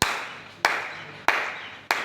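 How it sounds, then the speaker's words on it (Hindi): Hand claps echoing at the water tank of Fatehpur Sikri fort, four sharp single claps spaced evenly about two-thirds of a second apart, each trailing a long reverberant ring, with no talk. "अब देखो आप ताली बजाओ, ताली की आवाज़ गूंज रही थी"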